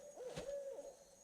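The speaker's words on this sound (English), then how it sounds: "Y'all hear that owl?" An owl hoots from some distance outdoors near a creek during tree removal work, a single drawn-out call sounding clear over a quiet background.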